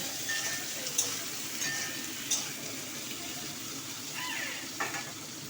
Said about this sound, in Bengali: দিয়ে আলুগুলো ভালো করে ভেজে নেব।